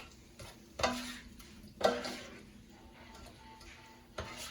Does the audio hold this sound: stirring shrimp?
yes